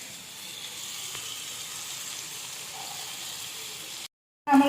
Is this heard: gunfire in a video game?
no